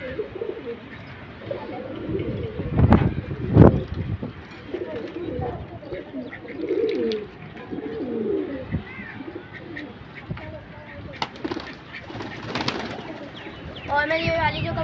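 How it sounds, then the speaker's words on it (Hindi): Pigeons coo steadily while they peck at rice at a home feeding spot among other birds, with soft cooing and chirps throughout. Someone speaks over them now and then, and there are occasional close knocks. "कबूतर ही खा रहे हैं।"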